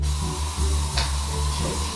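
Fly spray squirted in a house, heard as a continuous hissing spray over a low background rumble, with a brief sharper burst partway through; steady and fairly close, no speech.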